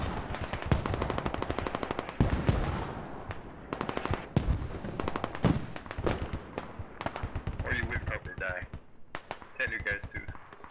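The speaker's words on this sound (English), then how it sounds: "The mortars are doing their job." Rapid bursts of automatic gunfire and heavy mortar or artillery blasts from a military video game battle at an Iraqi airfield, loud and dense with overlapping shots throughout, with faint voice chatter mixed in.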